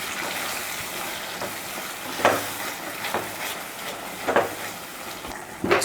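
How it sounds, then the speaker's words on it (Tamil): Ground masala paste fries in hot oil while being stirred, a soft close sizzle with scraping stirring strokes rising every second or so, no voices. "அதை இதில் சேர்த்துடலாம். சேர்த்துட்டு அதையும் லைட்டாக அந்த எண்ணெயில் போட்டு நல்லா கலந்து விடுங்க."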